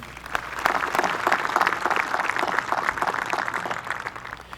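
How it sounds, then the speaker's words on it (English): A crowd applauds the school officials and committee members at the 2020 Quincy High School graduation ceremony, with steady, sustained clapping from start to finish. "If we could have a round of applause for these people"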